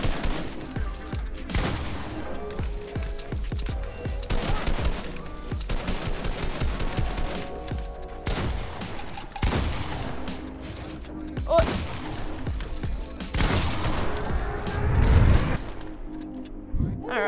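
Submachine gun fire in an online wager match in a multiplayer shooter, with repeated rapid bursts and scattered single shots crackling through the whole stretch, some bursts louder and closer than others, with occasional talk mixed in.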